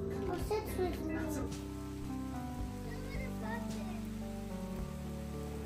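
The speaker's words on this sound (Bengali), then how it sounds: "আজ সকাল থেকে আমাদের এখানে মুষলধারে বৃষ্টি হচ্ছে।" Heavy rain coming through an open kitchen door makes a steady broadband hiss, partly masked by louder tonal sounds from a nearby TV playing throughout.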